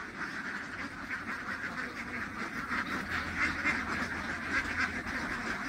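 Ducks quacking continuously in a dense, steady chorus just after being unloaded from a truck into a duck pen, a busy layered clamor with no pauses.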